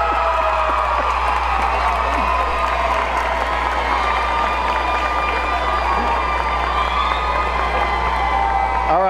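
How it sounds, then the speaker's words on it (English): Crowd at a high school all-star basketball game in San Antonio applauding and cheering, a loud continuous roar of clapping, whoops and shouts sustained for the full stretch, with a public-address voice and steady hum beneath. "big round of applause there"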